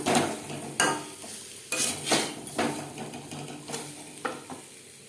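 Potatoes lightly frying in a pan with salt and turmeric, a soft sizzle under repeated scraping and clanking as they are stirred with a spatula, the knocks coming in irregular bursts.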